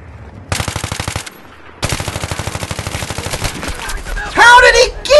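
Gunfire in the Battlefield 3 video game: loud, close bursts of rapid automatic fire, one short and one long sustained volley, followed by a shouting voice.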